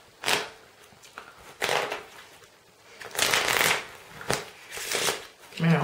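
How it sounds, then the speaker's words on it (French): A deck of playing cards is riffle shuffled during a card magic routine, with several quick crisp fluttering bursts of cards separated by short pauses, all close up. "Mélange américain."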